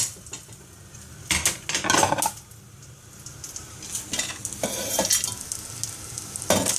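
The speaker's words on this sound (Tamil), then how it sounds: "கருவேப்பிலை, மிளகாய் வத்தல், உளுத்தம்பருப்பெல்லாம் இந்த பதத்துக்கு வறுத்துண்டு" Sesame, curry leaves, dried chillies and urad dal roast in a pan for ellu thuvaiyal, with a continuous dry sizzle broken by loud, close bursts of spoon stirring and scraping against metal, and no voices.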